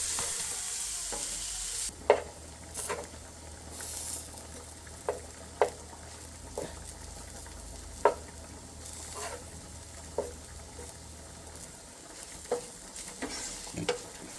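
Bitter gourd curry cooking on a low flame gives a soft, continuous sizzle, with sharp spoon-against-pan stirring knocks arriving roughly every second or two and no one talking.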